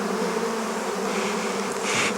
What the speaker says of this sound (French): Oh, il y a un essaim d'abeilles